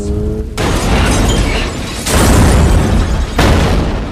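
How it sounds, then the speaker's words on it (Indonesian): A car's NOS blows up in a Fast and Furious film scene, heard as loud, dense blasts and rumbling bursts that come in three surges, with no talking. "menembaki mobil milik Brian yang membuat nos dalam mobil itu meledak dan menghancurkan mobilnya"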